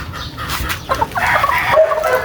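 A hen clucks in a series of short, throaty calls close by, with rustling farmyard noise underneath, just after rain.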